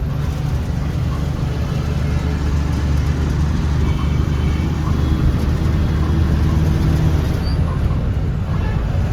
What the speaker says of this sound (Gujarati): અહીંયા ટ્રાફિક બહુ હોય ચોટીલા ગામની અંદર